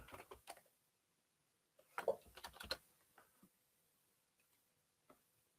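Typing on a computer keyboard comes in quick bursts of close, crisp key clicks, with a pause and then a denser flurry, a few scattered taps trailing off.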